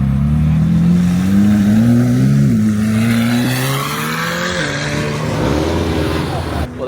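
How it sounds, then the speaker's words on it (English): A Porsche Turbo S and a McLaren 750S pull away from a street car meet, engines droning loud and steady and shifting pitch as they accelerate off, with people talking over the engine noise. "I'm going to go back outside to see those supercars leave in style"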